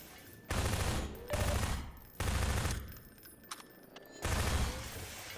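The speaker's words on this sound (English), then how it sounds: "let me shoot the manhacks here with the SMG just to stop them getting close" SMG bursts aimed at manhacks in the game Half-Life 2, four or five loud rapid-fire volleys separated by short pauses.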